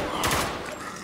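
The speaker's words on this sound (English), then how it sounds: "Now open fire!" Gunfire in the war shooter Spec Ops: The Line, a short burst of rapid shots with a loud dense crackle, fairly close and busy, over a noisy battle backdrop.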